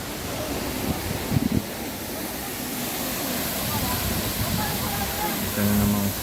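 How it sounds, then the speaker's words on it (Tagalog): A waterfall on Jeju Island, Korea, gives a constant broadband rush of falling water that fills the whole clip at an even level, with a few faint thumps near the start. "Ito na namang falls."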